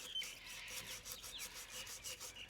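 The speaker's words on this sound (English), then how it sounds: "gonna want to get your fine grit sandpaper, rip a bit off here, just rub it on" Fine grit sandpaper rubs over a metal engine part in quick rhythmic back-and-forth strokes, a close dry scratchy rasp that continues without pause.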